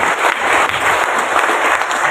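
A church congregation breaks into loud, dense applause, a close and continuous wash of clapping that holds steady for about two seconds.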